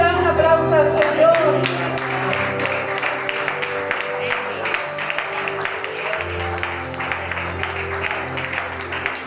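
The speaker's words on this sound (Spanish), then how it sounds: "¿Por qué no le dan un aplauso al Señor?" A church congregation claps during a Sunday service, scattered sharp claps spread steadily across the stretch over a musical backdrop, with some voices mixed in.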